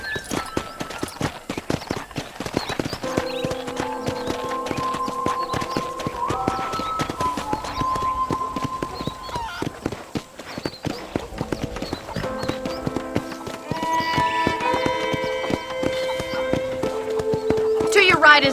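Steady clip-clop of horse hooves trotting in the video game Red Dead Redemption, with a musical score playing over them throughout.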